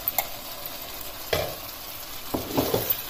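Ginger garlic paste sizzling in a hot pan for kabuli pulao, a steady close frying hiss broken by a few scraping stirs of the spoon, with no voices.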